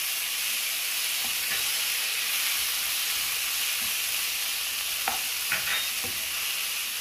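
Sliced onions and chopped tomatoes frying in a pan for masala dosa filling, a continuous loud sizzle with a few soft utensil scrapes and taps, no talking.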